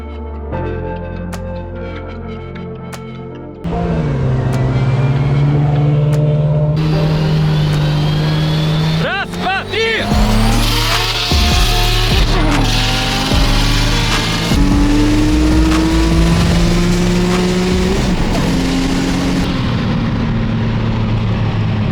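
Loud engines of a BMW E21, Toyota MR2 and Infiniti Q60 Red Sport rev and accelerate in a race, rising in pitch through gear changes, with roaring passes close by and no talking.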